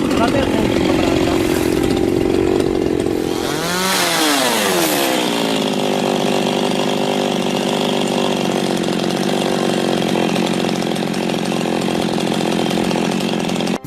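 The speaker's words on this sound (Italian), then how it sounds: "Tagli con la motosega anche in questa pianta sono stati eseguiti" A chainsaw cuts olive tree branches during pruning in an olive grove in Sardinia. The engine screams loud and close under load, then drops and settles into a steady high idle whine.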